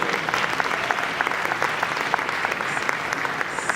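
Audience applause from a crowd gathered with Jeff Kinney and Brandt Robinson, steady dense clapping that holds at an even, fairly loud level throughout.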